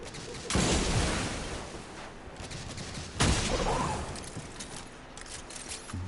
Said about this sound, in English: It's a hand cannon.